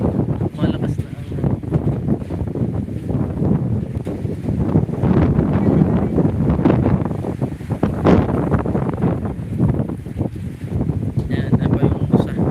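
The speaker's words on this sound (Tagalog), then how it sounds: "Nalakas na po ang hangin." Strong storm wind gusts steadily and roars against the microphone near water, with people talking under the noise.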